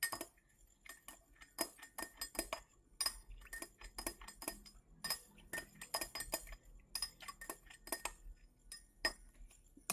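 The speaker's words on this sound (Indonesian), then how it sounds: "Kemudian kita aduk." Repeated light clinks and taps of a utensil against glassware while a liquid solution is stirred, a fast irregular series of bright chinks with brief pauses, close and moderately loud with no talking.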